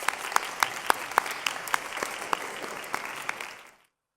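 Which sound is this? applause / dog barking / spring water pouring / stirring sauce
applause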